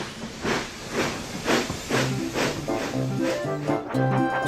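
A toy steam engine chuffs along in a quick, steady run of hissing steam puffs, with a soft musical tone playing beneath.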